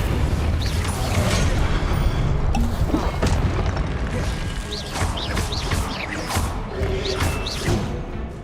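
An Incendio fire spell is cast in Hogwarts Legacy on PS5, giving a loud whooshing burst with mechanical thumps and crackling booms layered over game ambience.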